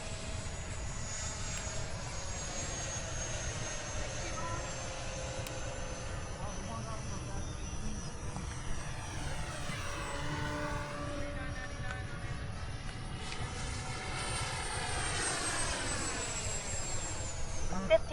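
An FMS Trojan 1400mm RC model airplane flies at a model airfield, its engine whine steady and continuous at moderate distance, pitch sweeping down and up as it passes, with wind and outdoor background noise underneath.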